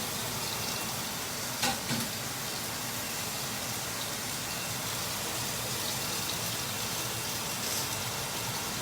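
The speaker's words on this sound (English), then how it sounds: "Nice, beautiful sear going on." Steak searing in a hot pan, a steady loud sizzle and crackle that runs the whole time with a couple of brief clanks near the start, no voices.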